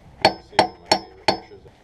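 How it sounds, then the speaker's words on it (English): Four sharp hammer strikes land in an uneven rhythm, close and fairly loud, with brief quiet gaps between the blows. "Use a hammer."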